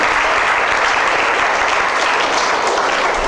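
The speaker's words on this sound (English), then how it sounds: "Let us all clap for him for his wonderful coordination to conduct this function in a great manner" An indoor audience at a cricket court inauguration and curriculum release function claps loudly and steadily, a dense, continuous wash of many hands with no pauses and no talk over it.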